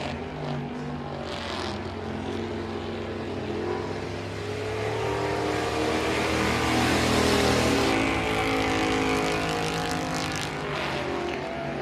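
Race cars roll down the back straightaway at Boothill Speedway on the first lap, a dense, continuous engine roar that swells louder midway and then eases, heard from trackside without talk.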